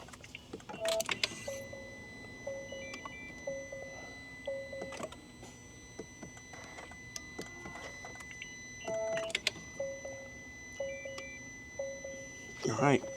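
Fuel system priming on a 2024 Honda Integra Type-S: a repeating series of short, evenly spaced electronic beeps or pump clicks, heard twice with a pause between, over a low steady hum and some background talk.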